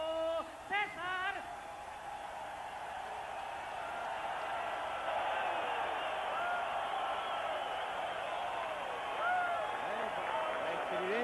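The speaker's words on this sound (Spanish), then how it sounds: "La estridencia de la ovación apagó la voz del anunciador oficial." Roaring ovation from a boxing arena crowd greeting Julio César Chávez before his bout with Marty Jakubowski, a loud continuous cheering din over which voices can be heard throughout.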